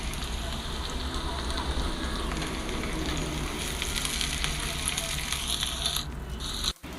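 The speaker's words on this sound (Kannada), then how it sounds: "ಅದ್ರ ಜೊತೆಗೆ ಇದು ಎಲ್ಲವನ್ನು ಆಯಿಲಲ್ಲಿ ಫ್ರೈ ಮಾಡ್ಕೊತೀನಿ." Garlic, curry leaves and green chillies frying in oil for a bitter gourd gojju: a continuous close crackling sizzle throughout, with a brief dull knock and a dip near the end.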